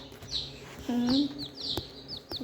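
Young chicken chicks let out high, thin peeps in short bursts, close by, while a person talks over them.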